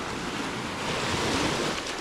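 Ocean waves wash up on a sandless beach at Playa del Carmen, a loud, close, continuous surging rush mixed with buffeting wind noise.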